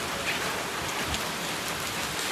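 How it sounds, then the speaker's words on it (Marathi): Heavy monsoon rain pours down in Mumbai as a dense, steady hiss that fills the whole stretch with no let-up and no voices. "एवढा पाऊस आहे मुंबईमध्ये, बापरे"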